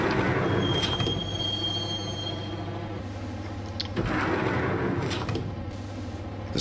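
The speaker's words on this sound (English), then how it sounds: "the train doors had already shut behind me, and I was in for the ride" Train rolling on rails in the Max Payne game, a steady low rumble of wheels on track with a thin high squeal in the first seconds and a brief clank near the middle, continuous and fairly close.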